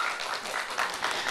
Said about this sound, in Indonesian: Kita berikan tepuk tangan untuk pasangan calon nomor urut 1.